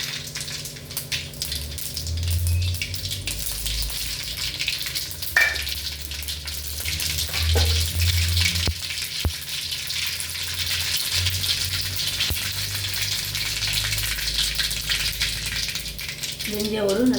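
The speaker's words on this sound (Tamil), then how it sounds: "தாளிக்க கடுகு போட்டுக்கலாம்." Mustard seeds sizzle and crackle steadily in about one and a half ladles of hot oil, tempering for an afternoon lunch dish, with occasional louder pops and spatters over a continuous frying hiss, close and moderately loud.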